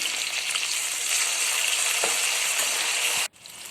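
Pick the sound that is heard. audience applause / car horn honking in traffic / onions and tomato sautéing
onions and tomato sautéing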